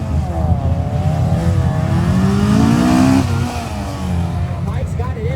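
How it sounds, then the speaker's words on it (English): A front-wheel-drive Honda Civic hatchback pushes hard through a timed lap on a grip track, its engine rising and falling through shifts at mid-distance, with a commentator talking over the noise. "Mike is going for that right now in this absolute unit of a Civic"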